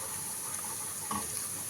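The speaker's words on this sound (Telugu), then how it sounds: "అలాగే దీన్ని బ్రౌన్ కలర్ వచ్చేదాకా ఫ్రై చేసుకుందాము" Food frying in a pan until browned, a steady, close hiss and sizzle of hot oil running unbroken, with a faint clink of the pan partway through.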